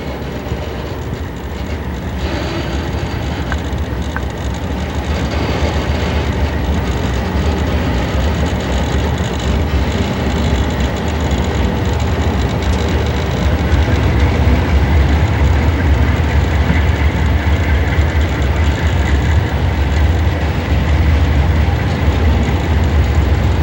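A heavy 109-car, 9,832-ton freight train rumbles steadily with a deep, continuous low drone and faint clanking, growing slightly louder as it slowly pulls away from Empire Mine.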